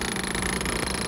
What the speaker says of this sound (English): coming to the HR35, equipped with a tractor feed in this instance, this is a high-speed daisy wheel machine